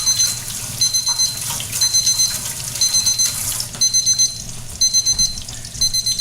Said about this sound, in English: Get the timer